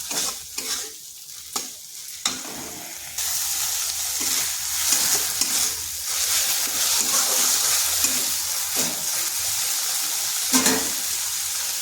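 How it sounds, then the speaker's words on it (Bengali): A paste of white and black mustard seed, poppy seed, onion and green chilli, with turmeric and a splash of water, sizzles loudly in a pan. A steady frying hiss runs throughout, broken by several sharp stirring scrapes. "এরপর মশলাটা ভালো করে কষিয়ে নিতে হবে।"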